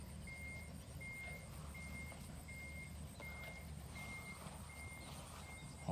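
A Hino 344 truck reverses on a rice farm, its backup alarm giving a steady series of evenly spaced high beeps over a constant low engine rumble, moderately near, with no talking.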